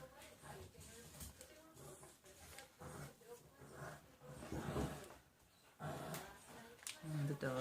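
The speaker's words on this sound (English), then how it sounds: "dogs are getting frisky." Playful dogs growling and scuffling faintly in a home while soap is being made, the low growls rising and falling under ongoing talk.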